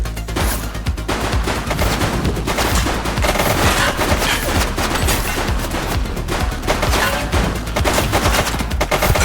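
Dense, continuous automatic gunfire from a police shootout in the video game The Precinct, loud and sustained with overlapping rapid shots and no pauses.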